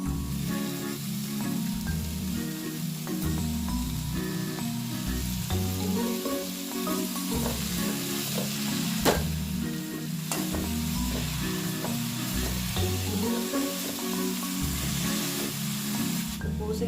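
Pumpkin leaves fry with turmeric in a hot pan, giving a loud, steady, close sizzle that hisses without a break from start to end.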